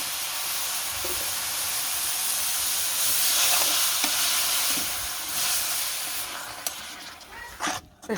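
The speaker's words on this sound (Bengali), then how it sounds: "শাক ভাজি করুন শাকটা দিয়ে দিচ্ছি" Leafy greens frying and being stirred in a pan in a village kitchen, a steady close hiss with scraping stir sounds and a few clanks toward the end.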